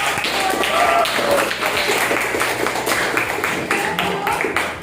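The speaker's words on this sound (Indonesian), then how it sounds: "Tepuk tangan dulu untuk" A classroom claps for a student group after their presentation, loud scattered hand claps running throughout with some voices in the room.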